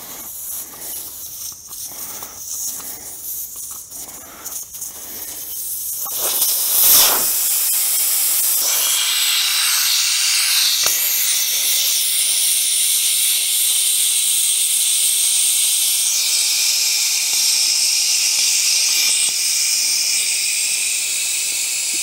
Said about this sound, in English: I'm going to remove the valve core.